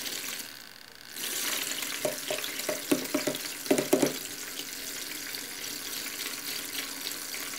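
StylPro brush cleaner spinning a makeup brush in water, a steady watery whir with a few short splashy bursts, faint and close, no talking.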